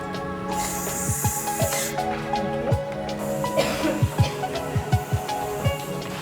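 A suction tool hisses steadily on a small watch part in a Herbelin watchmaking workshop, with light ticking clicks and a faint tonal hum underneath, close and moderately loud.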